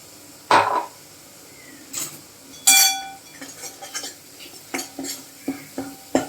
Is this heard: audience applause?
no